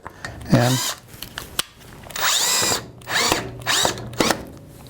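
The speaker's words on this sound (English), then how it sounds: "all that I need to do is screw it into the center of the workpiece" A power drill drives a screw into the center of a wooden workpiece on a bandsaw in several close, loud whirring bursts of varying length, with someone talking in the short gaps between them.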